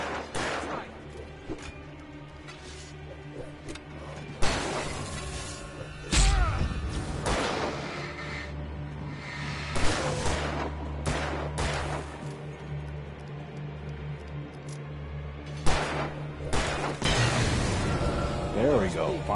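Gunshots in the video game Alan Wake crack out in scattered bursts over a steady low rumble, some loud and sharp, others softer thuds, with a player talking throughout.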